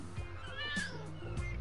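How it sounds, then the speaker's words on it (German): A single drawn-out cat meow from the fire station mascot cat stuck up high in Lego City Undercover, fairly faint and heard alone. "Ich soll eine Katze retten?"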